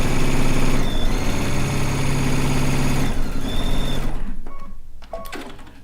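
A sewing machine stitches a strip onto a Stone Log Cabin quilt top, a loud close steady whir that runs for several seconds, then slows and stops with a few faint clicks.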